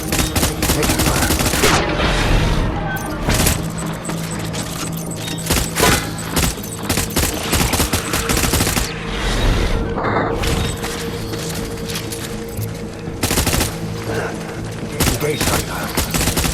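Bursts of gunfire in the video game Death Stranding: loud, repeated volleys and rapid shots with booms and mechanical clatter, sustained across the whole stretch, with short gaps between salvos.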